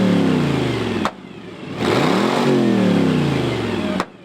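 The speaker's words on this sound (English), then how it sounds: "you probably heard the roar of 20-plus vintage engines revving" Roar of more than twenty vintage car engines revving at a Route 66 diner gathering, loud and close, with surging throttle blips and a sharp cut near the middle before the revving climbs again.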